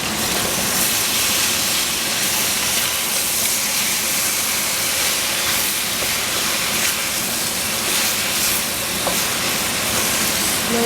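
Eggplant cooking in a pan for a cabbage and minced pork dish, a loud, steady hiss of sizzling that stays even throughout with no pauses.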